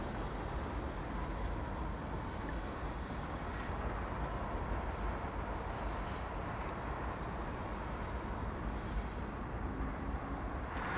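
A very long train passes nearby, a dense, steady roar and rumble that fills the whole stretch without letup and carries no voices.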